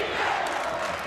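Crowd roaring and cheering in a gym at a Nebraska girls' state high school basketball championship between Crofton and Lutheran High Northeast, a loud, dense, sustained swell of voices with no break.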